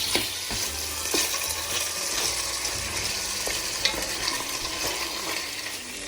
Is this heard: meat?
yes